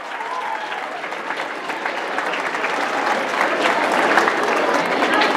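Loud applause from a school audience fills the room, a thick continuous clatter of many hands that grows a little louder as it goes, with some voices underneath.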